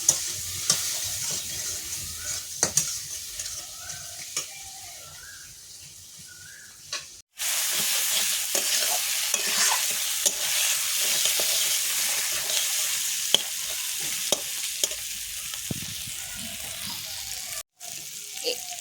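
Continuous sizzling of chopped tomatoes and spices frying in a pan for mourola fish curry, with scraping stirs and clinks of a utensil throughout; a short break in the middle.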